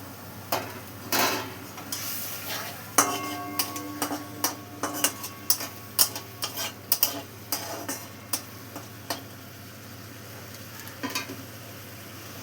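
Fried mushrooms tumble into a pan of spiced masala and water, setting off a series of close clicks, clinks and stirring knocks over a faint steady simmer, the sharp taps bunching mid-way then thinning out.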